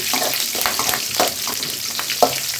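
Green chillies and curry leaves stir-fried in a hot tempering pan give a steady close sizzle, with a few spoon scrapes and stirring clatters breaking through, no voices.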